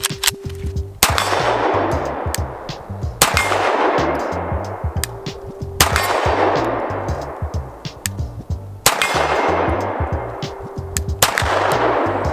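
A CZ P-07 pistol fires unsuppressed at a steel target at some distance, with about six sharp loud shots spaced a couple of seconds apart, each followed by a ringing clang from the steel.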